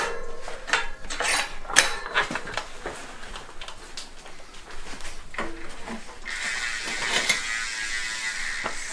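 Tightening a part while assembling a Niner Rip 9 mountain bike gives a run of small clicking, ratcheting mechanical ticks, close and fairly quiet, with a brighter hiss-like scrape late on.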